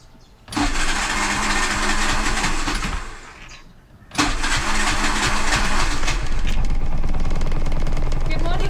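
Hill climb race car engine being started on a cool morning: a first crank catches and roars for a few seconds, fades, then a second start fires up into a loud, steady, rough-running engine.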